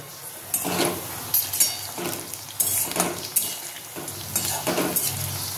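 Corn pakoras fry in hot oil, a continuous sizzle broken by repeated scraping stirs and spatula clinks against the pan in uneven bursts.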